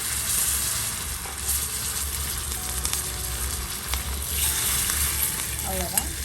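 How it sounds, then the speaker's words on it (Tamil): Cumin seeds and curry leaves sizzle in hot oil for a tempering, a steady close frying hiss with small crackles and faint stirring, no voices. "சீரகமும் கருவேப்பிலை, வேறு எதுவுமே கிடையாது. தாளிச்சாச்சு."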